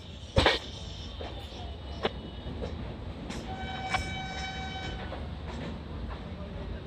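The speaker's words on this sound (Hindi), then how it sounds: "ये ट्रेन वही है 13307 धनबाद फिरोजपुर किसान एक्सप्रेस और गंगा सतलज" The Dhanbad–Firozpur Kisan Express pulls into Lucknow Junction, its rumble steady beneath a sharp clank early on, then a sustained tonal horn partway through, with scattered knocks of rolling stock throughout.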